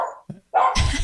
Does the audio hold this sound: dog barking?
yes